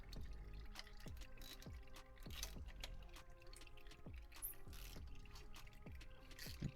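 Old engine oil draining from a Mitsubishi Eclipse with a dented oil pan, a steady liquid stream broken by repeated dripping and plopping splashes, close by and fairly quiet, with no talk.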